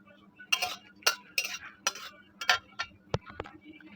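Chillies and spices frying in a heated karai, a run of short bright crackles and spits coming in quick irregular bursts over a quiet low background hum.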